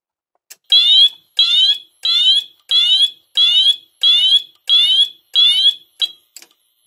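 A fire alarm system on a workbench test blares loud, shrill electronic pulses, eight or nine evenly spaced bursts about half a second apart, alone in a quiet room before stopping.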